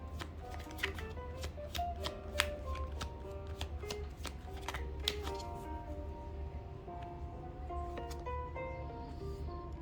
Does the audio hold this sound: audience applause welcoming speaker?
no